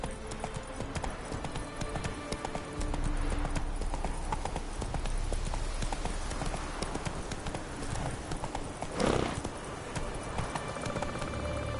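Roach the horse galloping in The Witcher 3, a rapid rhythmic clip-clop of hooves, close and steady over game ambience, with a brief whoosh near the end.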